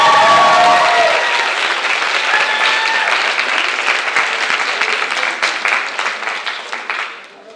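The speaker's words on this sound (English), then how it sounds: "Can I get a round of applause, please?" Loud audience applause fills a film festival screening hall, steady dense clapping that holds strong before thinning and fading out at the end.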